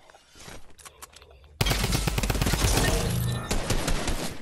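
Rapid machine-gun fire in a video game, aimed at a robot zombie, starts abruptly after a quieter stretch of scattered shots and continues as a loud, dense volley that takes many bullets.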